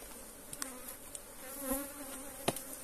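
Honey bees buzz steadily around an opened beehive during an inspection, a close, continuous hum with brief louder passes as individual bees fly near.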